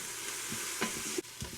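Garlic sizzles softly in a hot Instant Pot while a utensil stirs and scrapes across the bottom with a few light knocks. The frying stays quiet and close, with no voices.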